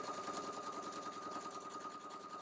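A sewing machine stitching a quilt block seam runs in a steady, fast, close mechanical whir with a rapid even needle rhythm throughout, no talk.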